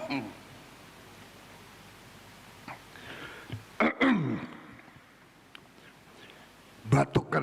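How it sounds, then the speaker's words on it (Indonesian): The president clears his throat and coughs a few times, loud and close on a microphone, while addressing principals and teachers of Sekolah Rakyat, with quiet pauses between the bursts. "Batuk karena semangat."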